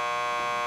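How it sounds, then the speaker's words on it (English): A door buzzer for the lockup in Max Payne 2 drones as one steady, harsh electronic tone, loud and unbroken for under a second, with no voices. "Just press the buzzer by the door."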